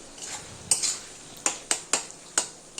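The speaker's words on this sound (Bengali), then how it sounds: "সেখানে সামান্য ধনে পাতা কুচি, কেটে রাখা টমেটো কুচি দিয়ে ভালো করে নাড়াচাড়া" Chopped tomato and coriander leaves being stirred in a pan, a quiet background sizzle broken by sharp metal spoon taps and scrapes against the pan, several distinct clinks in quick succession.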